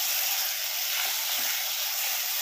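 Green tomato, brinjal and green chilli curry frying in a pan, village style: a steady, bright sizzle with faint scraping as it is stirred, close and continuous with no talk.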